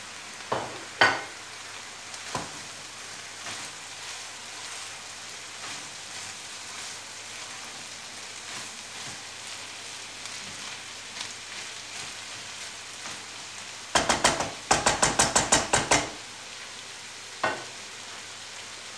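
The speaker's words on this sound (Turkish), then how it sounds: "Doğradığım sebzeleri de şöyle ekliyorum" Chopped vegetables go into a pan of well-softened onions with no water, giving a steady soft sizzle, a few scattered pops, and then a loud dense crackling burst for a couple of seconds before it settles back to a gentle fry.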